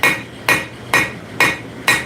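A hammer planishes steel during forging, smoothing and rounding the edges of the metal. Five sharp, ringing strikes land about half a second apart, loud and close, with no talking.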